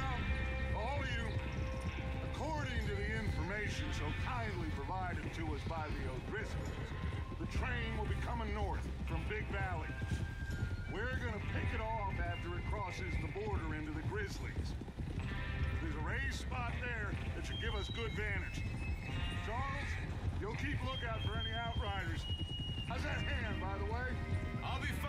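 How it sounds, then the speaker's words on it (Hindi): Horses gallop in a race in the Red Dead Redemption 2 game, with steady rapid hoofbeats and occasional whinnies running throughout, while players talk over the action. "रेस लगा दो यार, एक घोड़े की रेस हो जाए।"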